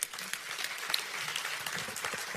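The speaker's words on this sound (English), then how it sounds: "Give everybody a hand." An audience at a large motivational seminar bursts into applause, a dense spread of clapping from many hands that holds steady throughout, heard at moderate distance and fairly quiet.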